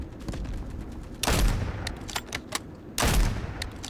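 Gunfire in a Battlefield-like video game, with two loud, booming shot bursts over a steady background of smaller crackling reports, close and punchy with no talk.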